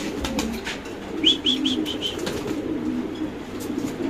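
Fancy pigeons, male and female pairs, at a pigeon seller's, with a short run of soft coos and a brief flutter of wings over a steady low background hum.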